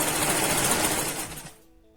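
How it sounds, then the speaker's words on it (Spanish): A domestic sewing machine runs a test line of stitching, a fast, close, even mechanical rattle that slows and stops near the end, leaving quiet hum and a faint click. "a hacer un ensayo de costura para ver que nuestra aguja nos esté trabajando bien"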